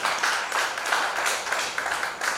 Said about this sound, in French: Ça va être des applaudissements.